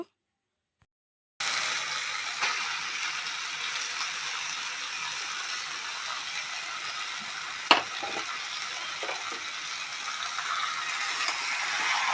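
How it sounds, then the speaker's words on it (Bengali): Whole green moong dal stirred together with fish heads and spices in a pan, a steady sizzle with a sharp scrape of the spoon partway through, no talking. "ডালটা, মাছের মাথা, মশলা একসাথে ভালো করে মিক্স করে নেব কষিয়ে।"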